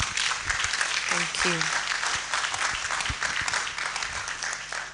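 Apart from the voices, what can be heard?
audience clapping at public lecture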